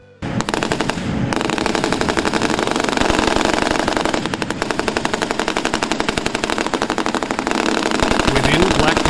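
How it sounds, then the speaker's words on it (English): A K6 heavy machine gun mounted on a K2 Black Panther tank fires long sustained bursts, a loud rapid rattle that keeps going with barely a pause, close up, with an engine rumbling underneath. "the K6 heavy machine gun incorporates an automatic system for distinguishing"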